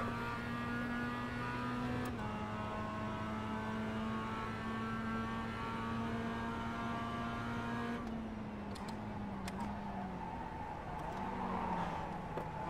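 Racing-game engine audio of a Mazda MX-5 at Okayama in iRacing, a steady droning engine tone that shifts pitch a couple of times as another car draws closer and louder, with no talking over it.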